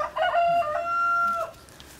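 A hen being held for a DNA saliva sample lets out a loud, drawn-out squawking call lasting about a second and a half, close by, with no talk over it.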